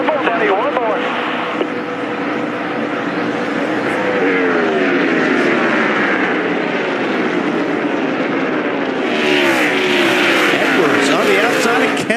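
NASCAR stock cars roar through the final lap of a race, a dense continuous engine drone with rising and falling pitch sweeps as cars pass, heard under steady talking throughout.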